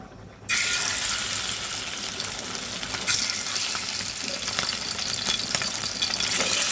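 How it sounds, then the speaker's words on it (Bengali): Marinated baila fish hits plenty of hot oil in a frying pan, setting off a sudden loud, sustained sizzle that holds steady throughout, with a brief surge midway and no speech. "ফ্রাই প্যানে অনেকটা তেল দিয়ে দিয়েছি এখন আমি সুন্দর করে যে মাছটা মেখে রেখেছি সেটা ভেজে নেবো"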